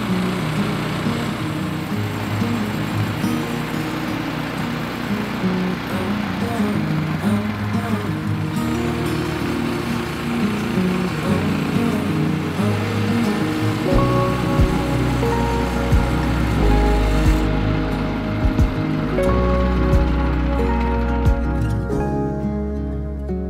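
A sawmill cuts wooden beams down to 5.5 inches, a loud continuous engine-driven roar with grinding texture that deepens and swells in the second half, then thins toward the end.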